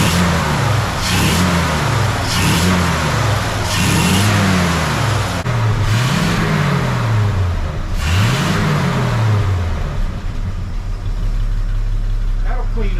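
A 1971 Chevy C10 engine running on its mechanical fuel pump, revving repeatedly in rising and falling surges over a steady idle, loud and close, with voices talking over it.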